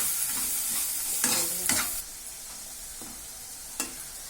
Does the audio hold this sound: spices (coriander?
yes